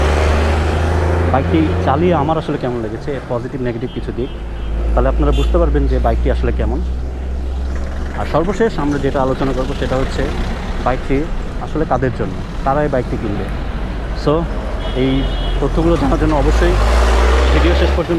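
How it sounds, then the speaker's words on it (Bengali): Traffic on a main road passes steadily in the background, with low engine rumble and vehicles swelling and fading. Someone talks continuously over it throughout. "অনেক গাড়ি ঘোড়া যাচ্ছে, এই জন্য অনেক নয়েজ হচ্ছে"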